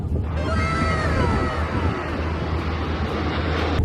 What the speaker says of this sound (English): वो देखिए कितने सारे हेलीकॉप्टर.